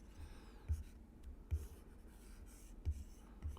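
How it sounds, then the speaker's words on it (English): Pen strokes on paper while sketching a rectangular block for a circuit diagram, giving a few soft scratchy marks at spaced intervals, quiet and close with no talk. "I'm trying to draw a rectangular block here"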